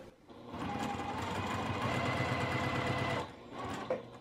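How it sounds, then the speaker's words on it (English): A sewing machine runs a steady quarter-inch seam through two fabric strips laid right sides together for quilt binding, a continuous close whirring burst of about three seconds that stops abruptly, followed by a few small handling clicks. "I'm just gonna sew 1/4 inch down this side right here."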